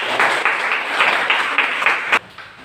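Listeners clap for a group after a reading in an Indonesian classroom, an even, fairly loud patter of hands that stops abruptly near the end and leaves brief quiet.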